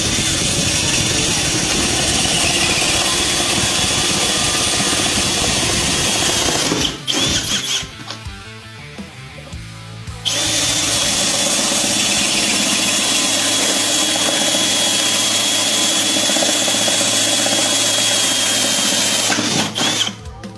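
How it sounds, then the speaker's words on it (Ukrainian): A power drill bores holes into laminate flooring with a loud, high squealing whine, running steadily for about seven seconds, pausing briefly, then drilling again for roughly ten seconds before stopping. "І насверлюємо отвори."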